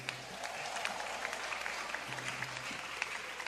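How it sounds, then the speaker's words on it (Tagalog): A congregation at an El Shaddai church service applauds, a steady, fairly distant wash of many hands clapping with faint voices underneath, sustained throughout and not very loud. "pumalakpak ng malakas"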